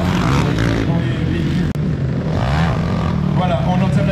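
Quad bikes racing on the Merlande motocross circuit in Le Lamentin, Guadeloupe, a loud continuous engine roar with revving under crowd babble and talk throughout.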